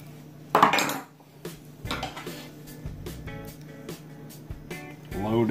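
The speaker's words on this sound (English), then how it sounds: "Load a screw onto the screwdriver." Small metal screws are handled and one is loaded onto a screwdriver while preparing a TrendNet TEG-S24G network switch for rack mounting, a run of close, light metallic clinks and clatters in separate taps, with no speech.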